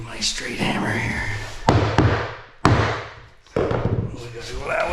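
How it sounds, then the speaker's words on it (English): A straight hammer strikes wood during upstairs renovation work, giving four loud, close, sharp knocks spaced irregularly over a few seconds, with a voice in the background. "My straight hammer here."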